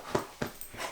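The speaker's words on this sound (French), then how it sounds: "j'ai un petit chien" A small dog gives three quick, soft yips or whimpers in close succession, faint and close by, with no talking.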